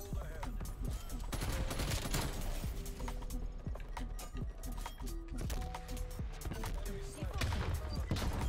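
Rapid automatic gunfire from the KSP gun in a multiplayer shooter match, a dense, loud, continuous fusillade of overlapping shots with mechanical clatter throughout.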